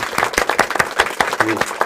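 Audience applause at a Korean panel discussion on press freedom and democracy, thanking a cultural coalition representative; a short burst of clapping with individual claps standing out and faint voices mixed in.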